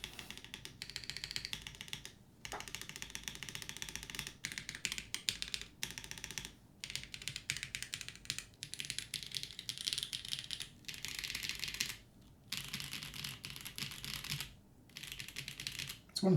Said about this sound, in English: All right, I'm going to type a little bit.